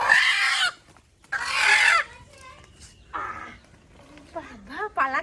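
Domestic village chickens cluck and squawk in loud, close bursts separated by short pauses, with a person talking between the calls.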